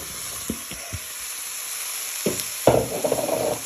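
Carrot, onion and garlic in a pan as pumpkin pieces are dropped in: a few soft taps and clatters, then a burst of sizzling frying that stays bubbling to the end, close and moderate in volume.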